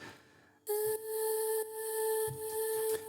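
A breathy, airy vocal sample used like a choir pad in an electronic track, holding a clear sustained tone that enters abruptly after a quiet start, with soft rhythmic pulses beneath and no speech.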